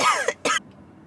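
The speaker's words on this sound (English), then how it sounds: "I also have a really bad cough at the moment" Two quick, harsh coughs from a woman sitting in a car, close and loud, followed by quiet.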